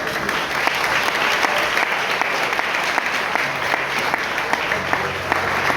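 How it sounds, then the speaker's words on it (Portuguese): A church congregation at an anniversary worship service applauds steadily, with thick continuous clapping and a few sharper claps on top, plus a low organ or keyboard drone entering toward the end. "Pode aplaudir ao Senhor."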